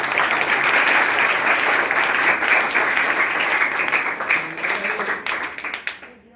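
Audience applause at a school education event in Panapur, Motipur, a dense wash of clapping that holds steady, then thins and fades toward the end, with a voice faintly heard beneath.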